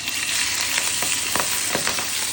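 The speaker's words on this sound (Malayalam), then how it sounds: "ഇതാ മത്തി ഫ്രൈക്ക് വെച്ചിട്ടുണ്ട്" Sardines fry in a pan, a close, steady crackling sizzle with occasional sharper pops, heard alone without any voices.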